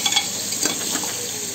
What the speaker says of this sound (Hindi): पहले हम सोया चंक्स डालेंगे, फ्राई करेंगे इन्हें